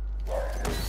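Magazine change during a Rainbow Six Siege match: a quick mechanical click and creak of the weapon reload, close and brief, over a steady low game hum.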